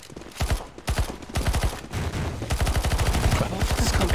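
Rapid gunfire rattles through a Counter-Strike: Global Offensive zombie escape match on a sunken temple map, starting as spaced single shots and building into dense, continuous automatic bursts, loud and close with no talk.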